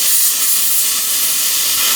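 A Simder CUT 50 plasma cutter slicing through thin 16-gauge sheet metal, a loud, close, continuous roaring hiss that holds steady for about two seconds with no talk.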